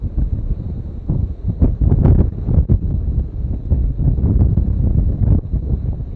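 Strong Cyclone Fengal wind gusting at Mamallapuram on the seashore, roaring continuously and buffeting the microphone hard with loud blustery surges, no voices.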